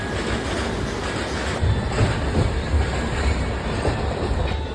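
A MEMU train on the Dornakal to Bhadrachalam Road line rumbles along the rails up close, with a loud steady roar, rhythmic clacking, and faint high squeals from the wheels.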